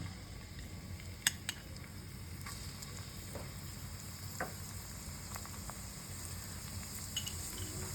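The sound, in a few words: garlic tempering sizzling in hot mustard oil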